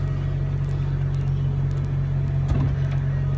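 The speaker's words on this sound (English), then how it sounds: "this beautiful ballet of mechanical engineering as that folding hardtop goes back neatly into place" A 2013 BMW 335i M Sport Convertible folding hardtop retracting, a steady low electric-motor hum with faint clicks and a soft thunk partway through, close and continuous without talk.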